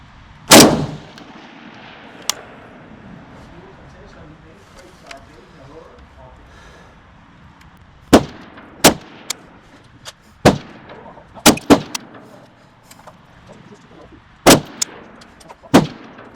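An L85A1 SA80 service rifle fires match ammunition on a 300 m range, sharp, loud single shots spaced irregularly, one early and a quicker cluster later, with someone talking quietly between them.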